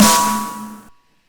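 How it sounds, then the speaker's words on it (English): A single punchy, layered dubstep snare hit with a bright noisy crack and a tonal body, decaying quickly into silence. "And together with other snare sounds layered, it sounds like this."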